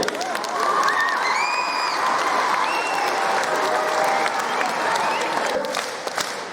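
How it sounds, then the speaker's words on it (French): Over a thousand pupils and their teachers applaud together in a school sports hall, a dense, loud, sustained wash of clapping with cheers and shouts rising through it for several seconds. "on peut s'applaudir"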